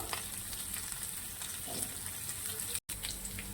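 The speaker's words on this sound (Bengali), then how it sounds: "আলুটা দেখো আমার অনেকটা ভাজা হয়ে গেছে" Potato pieces frying in hot oil for a rohu fish curry, a steady soft hiss and crackle of sizzling with occasional stirring clinks, quiet and continuous.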